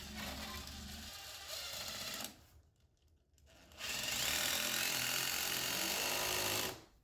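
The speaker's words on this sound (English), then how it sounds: "I'm using 2 screws side by side for extra strength." Power screwdriver driving two screws side by side into stair nosing, two sustained loud whirring bursts separated by a short quiet pause, no talking.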